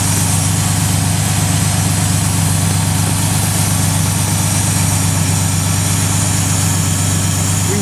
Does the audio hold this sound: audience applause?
no